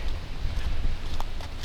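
Wind gusts outdoors on a windy day while deer hunting, buffeting the microphone with a loud, constant low rumble and rushing noise.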